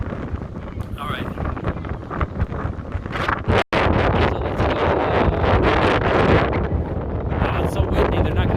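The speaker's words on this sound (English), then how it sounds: "It's so windy." Strong wind buffets the microphone on the San Francisco waterfront, a loud continuous roar with gusty surges and a brief dropout, with some voices faintly under it.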